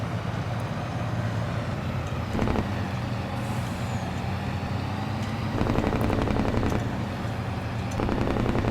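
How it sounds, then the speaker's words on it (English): A heavy truck's Jake brake in Farming Simulator 22 on back country roads, loud rapid staccato engine braking that rattles in repeated bursts over a steady diesel drone. "That Jake brake's gonna be very useful"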